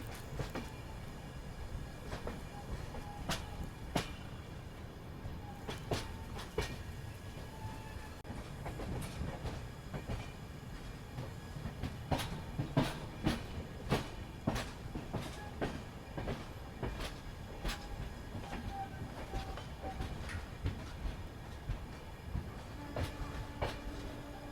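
Bengaluru Superfast express running on the rails, a continuous rumble with clickety-clack beats from the wheels over rail joints and faint squeals, steady and moderately quiet, with no voices.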